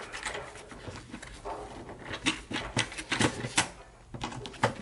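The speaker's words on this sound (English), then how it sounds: "Now I am going to tighten this connector." A screwdriver tightens the wire connector screw on a 240-volt double-pole breaker in an electrical panel, making a series of close, irregular clicks and scraping ticks that cluster in short bursts, with no talking.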